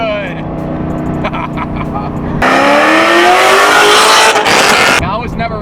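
Cammed C5 Corvette V8 blipping and screaming up through the revs after a downshift, loud and close, with an excited voice shouting over the engine.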